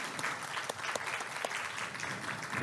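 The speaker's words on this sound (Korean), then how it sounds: "큰 박수 부탁드리겠습니다" An audience at an award ceremony keeps up steady, dense clapping throughout a short stretch, moderately loud and even, with no other sound standing out.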